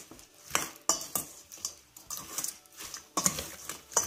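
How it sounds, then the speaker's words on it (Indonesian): A utensil stirs shrimp curry marinade in a pan, making a run of close, crisp metallic scrapes and clinks in an uneven rhythm, with no voices. "Lalu kita mau aduk jadi satu."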